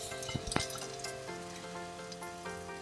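Zucchini fritters sizzling in oil in a pan, a steady bright frying hiss with a few sharp clinks of utensils near the start, close and continuous, no talking.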